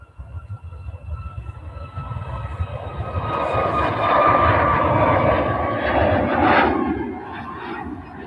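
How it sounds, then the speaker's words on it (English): A Ryanair jet airliner departs Manchester Airport, a broad roaring engine rumble that swells toward the middle and holds, heard from a distance outdoors without talk. "Got another Ryanair. This one is departing though."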